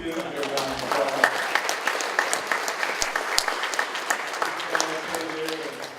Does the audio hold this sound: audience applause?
yes